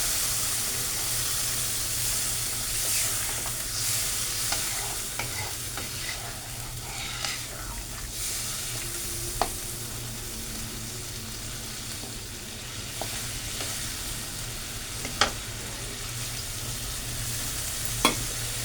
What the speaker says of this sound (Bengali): মশলা ভাজা হয়ে গেছে আমি ওখানে এর মধ্যে পরিমাণ মতন জল দিয়ে দিচ্ছি